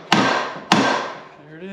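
Two sharp metallic hammer taps on a front suspension part of a Mercedes R129 SL500, each ringing out briefly, with a faint voice near the end.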